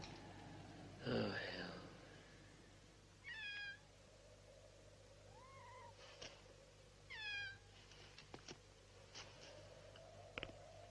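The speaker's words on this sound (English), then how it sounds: "I told you I could hear a black cat." A black cat meows several times from nearby in a quiet room, short rising and falling calls spaced apart, with a few soft clicks and a brief human sound between them.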